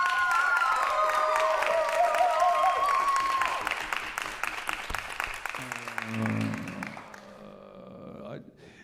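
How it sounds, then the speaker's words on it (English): Audience gives a round of applause at a university jazz singers concert, dense clapping with a few whoops at the start, fading over several seconds as sustained tones ring beneath it. "Give them a round of applause for that."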